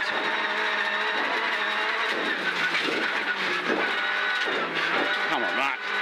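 A Honda Jazz rally car roars along a forest stage, its engine loud and constant from inside the cabin with rising and falling revs, while a voice talks over it the whole time.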